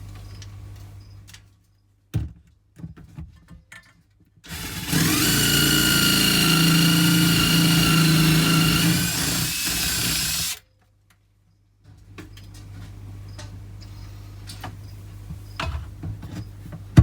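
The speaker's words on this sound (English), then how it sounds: "That's going to be easily done with a step drill bit, just on an impact driver." A step drill bit on an impact driver bores a cable hole through a reptile enclosure wall, one loud sustained whirring burst of about six seconds, preceded and followed by quieter clicks and handling sounds.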